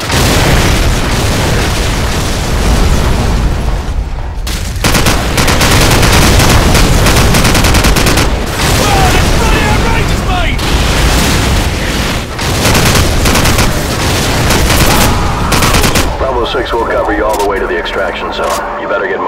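Artillery fire mission in Call of Duty 4: Modern Warfare, with loud, dense booms and rumbling explosions pounding almost without pause, plus a brief drop in the blasts midway, as voices talk over the barrage.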